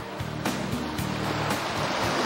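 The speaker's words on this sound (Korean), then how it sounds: "그날 맑은 날씨에도 불구하고 파도는 꽤 위험해 보였다." Sea waves crash and wash over coastal rocks off Seogwipo, a continuous loud surging roar with repeated heavy break impacts through the whole stretch.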